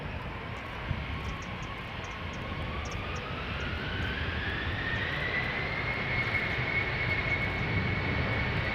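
A KLM Embraer E190 jet takes off from Schiphol's Polderbaan, its engines roaring steadily throughout with a rising whine climbing in pitch as it powers up and accelerates, loud and close with no talking.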